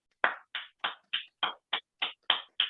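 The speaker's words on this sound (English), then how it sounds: "let's everybody unmute and give a rousing round of applause to Yasmin Tawala, our new president." Steady clapping at a virtual meeting: about nine crisp, evenly spaced claps at a slow, regular pace, fairly close but quiet, with no voices.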